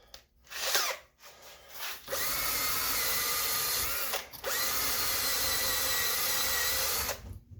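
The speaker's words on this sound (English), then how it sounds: "Use one of these wire wheels. Let's go along the inside." A drill spinning a wire wheel scrubs corrosion from aluminum during a Pontiac Montana front bearing replacement, grinding loudly in several sustained bursts with brief pauses between them.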